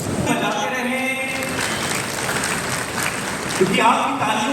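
Sustained applause from an audience at a Haryana event where the Chief Minister hands over smart TVs for school education, steady clapping filling the hall while a voice speaks over it.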